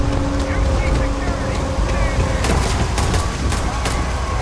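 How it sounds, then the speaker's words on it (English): Rapid bursts of gunfire from UC security in the sci-fi video game Starfield crackle in clustered volleys over a loud, steady background rumble, close and harsh. "Why is UC security shooting me?"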